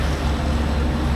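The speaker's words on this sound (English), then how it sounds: "That's a pretty big barge." Heavy diesel drone of a tug towing a large barge along a busy Bangkok river, a steady low rumble close by with wind and water wash layered over it, no talking.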